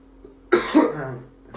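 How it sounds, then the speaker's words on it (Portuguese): A single harsh, close cough with a short follow-up burst, loud against a quiet room. "Eu acho que eu tô falando e a tosse tá aumentando"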